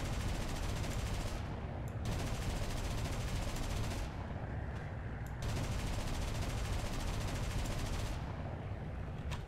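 Aircraft machine guns in War Thunder fire on a huge BV 238 flying boat: loud, dense, sustained bursts of rapid gunfire with a few brief pauses, running throughout with no talk.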